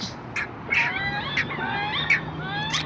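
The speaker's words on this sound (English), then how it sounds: "That's a wood duck." A wood duck calls repeatedly at a nature museum, several short rising squeals spaced across a few seconds over light rain and background murmur, moderately near.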